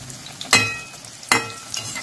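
Onion and potato bhaji deep-frying in hot oil in a home kitchen, with a steady close sizzle and two sharp bursts of crackle as the pieces are stirred or turned.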